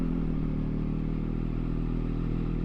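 A Triumph Daytona 675 sport motorcycle runs steadily at low speed in first gear, a continuous close rumble with mechanical clatter and no acceleration.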